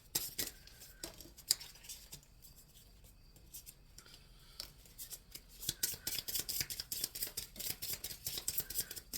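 Tarot cards are shuffled close up, soft scraping and rubbing giving way to a rapid run of crisp riffling flicks.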